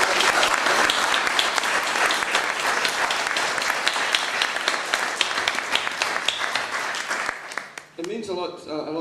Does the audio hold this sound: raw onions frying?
no